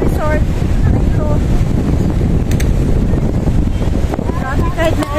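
Strong wind buffets the microphone at a beach resort on Easter Sunday, a loud steady roar through the whole stretch, with faint voices and bird-like chirps poking through.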